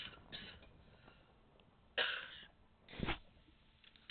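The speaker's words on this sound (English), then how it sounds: "I got a cough." Two short coughs, one sharp burst about midway and another a second later, fairly close over a quiet background.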